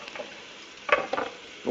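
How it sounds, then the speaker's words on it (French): Onions sweat gently in a pan over low heat, with a soft sizzle broken by a few brief stirring scrapes and crackles, close and moderately loud, with no talking. "On dit qu'on fait suer les oignons."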